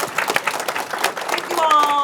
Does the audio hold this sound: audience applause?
yes